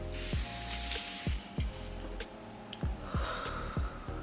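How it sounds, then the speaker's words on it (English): A pump spray bottle of face mist hisses in a burst of fine mist, with soft breathy noise around it and a few quick clicks and pumps. "I pop this open, I spray it."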